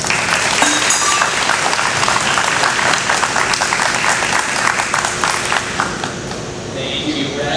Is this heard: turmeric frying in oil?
no